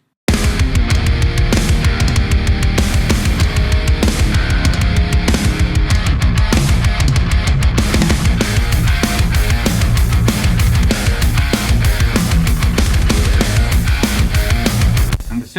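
Heavy metal electric guitar played through an EVH 20 watt Greenback speaker, loud and dense, with driving chugged rhythm riffs that run steadily from start to finish and no talking.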